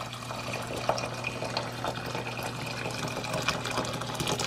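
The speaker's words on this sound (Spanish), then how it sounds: "yo voy a poner agua caliente." Hot water poured into a pot to make tea with bay leaf and cinnamon: a steady, loud, close splashing pour running throughout, with a low hum underneath and no talk.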